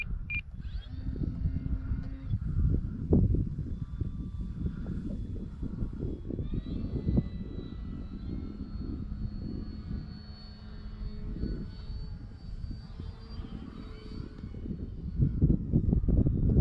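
An OMP Hobby Super Decathlon radio-controlled airplane flies overhead, its small electric motor buzzing steadily and rising and fading as it passes, with wind noise across the mic outdoors.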